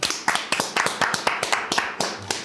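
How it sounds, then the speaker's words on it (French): Sharp hand claps ring out in a quick, steady rhythm, loud and close, sounding like a small group applauding together for a couple of seconds. "On applaudit."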